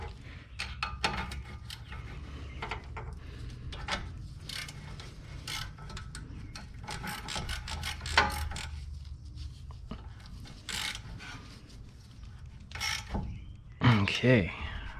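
A 10 mm ratchet wrench works a rusty bolt on a 2011 Lincoln MKS during a tie rod replacement, giving rapid close ratcheting clicks and metallic rasps over a low rumble, with a brief voice near the end.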